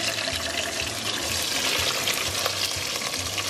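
Onions frying in hot oil in a pan for channa masala: a dense, loud, continuous crackling sizzle close up, with faint stirring and no speech.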